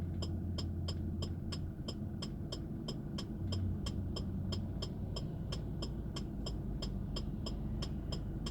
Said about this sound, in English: It's just completely silent apart from the indicator.